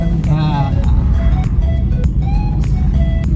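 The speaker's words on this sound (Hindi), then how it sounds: "ये गाड़ी देखो कैसे आती है, देख लो।" A car travels along a road during a driving lesson, its engine a constant low rumble from start to finish. Speech runs over the engine noise.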